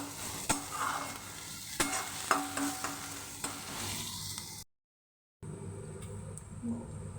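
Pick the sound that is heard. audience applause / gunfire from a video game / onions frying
onions frying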